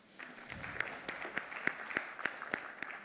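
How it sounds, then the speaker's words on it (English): An audience at a corporate HR event on remote and blended work claps for the organizing team, a steady, dense patter of many hands with a few sharper, closer claps standing out. "I would like you to please give them a clap."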